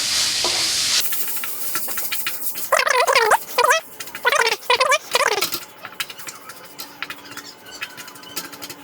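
Serundeng, spiced fried coconut, being stirred in a pan for sticky rice: a steady soft sizzle with scattered scraping stirs, interrupted midway by several short tonal chirping or squeaking bursts, with no voices.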